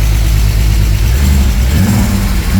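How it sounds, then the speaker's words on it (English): A modified naturally aspirated BMW M52 engine runs loudly up close with a rough, low idle, then revs up and settles back down. "But here's the second start."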